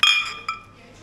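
Beer glasses clink together in a toast at a pub, two bright close ringing hits in quick succession that fade out quickly.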